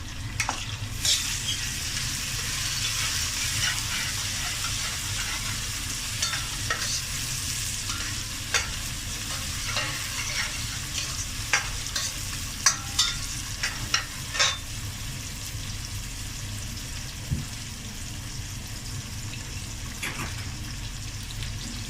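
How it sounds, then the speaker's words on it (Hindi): Ginger and garlic sauté in a pan with tomato as it goes in for a cluster bean curry. A steady sizzle and frying hiss carries throughout, with scattered clinks and stirring scrapes and no talk. "थोड़ा सा अदरक लहसुन सौते हो गया है तो हम इसमें ये अपना 1 अदद टमाटर डालेंगे।"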